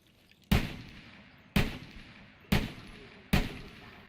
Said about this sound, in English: There's like a thud. It's not a popping noise like the gun really sounds in the game.